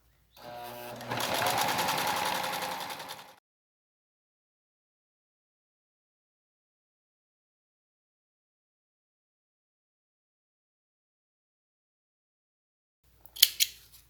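A sewing machine slowly stitches a double pencil case in one close burst of about three seconds. Long silence follows, then a brief sharp snip near the end.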